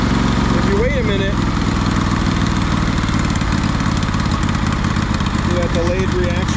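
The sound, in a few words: 2004 Craftsman DLT3000 lawn tractor engine idling after throttle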